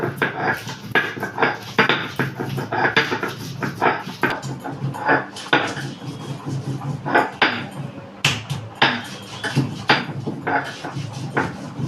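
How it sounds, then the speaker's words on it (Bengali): Green chilli, ginger and whole cumin being ground on a flat grinding stone, producing rapid continuous rhythmic scraping and knocking close by for the whole stretch. "কাঁচা লঙ্কা, আদা আর গোটা জিরে শিলনোড়ায় বেটে নেব"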